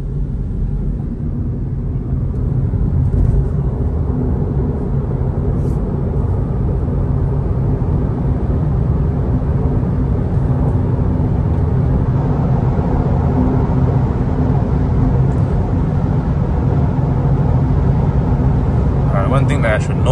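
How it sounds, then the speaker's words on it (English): A Mini 3 Door Electric hatchback pulls away at full throttle on a road near Batang Kali, giving a steady low rumble of tyre and road noise that builds slightly and holds throughout. "I'm gonna full throttle this thing"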